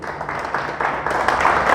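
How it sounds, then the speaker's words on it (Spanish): Church congregation applauding during a Spanish-language sermon, a dense wash of many hands clapping that swells slightly louder toward the end, with faint voices mixed in. "Le damos un fuerte aplauso a Dios."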